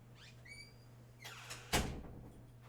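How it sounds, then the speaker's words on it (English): A bedroom door swings shut with a single solid thunk against a steady air-conditioner hum, preceded by faint rustling and light movement nearby. "Let me close my door."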